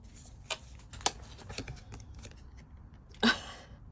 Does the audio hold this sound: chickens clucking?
no